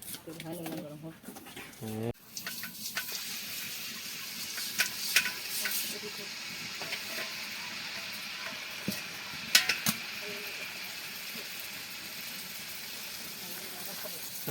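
Cooking in hot oil gives a continuous sizzle with occasional stirring clinks, after a short stretch of voices at the start, while pigeons coo faintly in the background.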